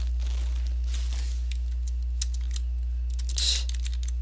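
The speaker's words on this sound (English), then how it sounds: "if I could type" Brief clicks and clacks of typing on a computer keyboard in a quiet room, a few scattered keystrokes and a short cluster near the end over a steady low hum.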